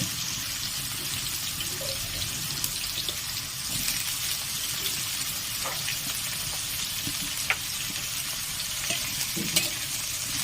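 Eggplant pieces for a Bengali shukto fry lightly in a pan with a steady, even sizzle, broken by a few scraping stirs and small clinks, with no voices.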